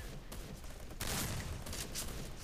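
M1887 shotgun firing in the video game Free Fire, a dense burst of gunfire noise that surges loud after a brief lull, heard alone without talk.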